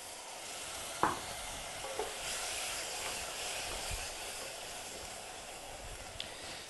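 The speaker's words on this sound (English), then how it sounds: "So add in our tomatoes." Tomatoes tipped into a dry, doughy curry paste for a baked bean curry sizzle steadily in the pan, with a few sharp stirring clunks and scrapes over a continuous soft frying hiss.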